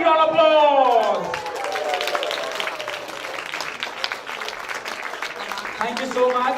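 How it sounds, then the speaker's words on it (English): An audience at a motivational talk bursts into sustained clapping that fills several seconds with dense, even applause, while a person speaks briefly at the start and again as the applause fades. "give yourself a big round of applause"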